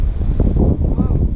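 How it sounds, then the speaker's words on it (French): Strong wind buffets the microphone with a constant low roar and rumble, loud and close throughout. "je pense qu'on m'entendra pas du tout parce qu'il y a beaucoup de vent"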